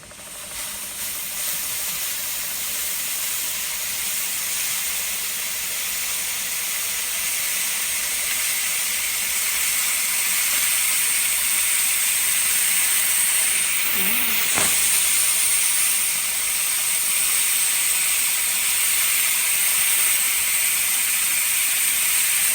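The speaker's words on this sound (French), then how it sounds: "aujourd'hui j'ai utilisé le tuyau de mon Vaporetto Polti" Polti Vaporetto SV440 Double steam cleaner releasing steam through its hose, a loud continuous hiss lasting over twenty seconds with a brief dip and click partway through.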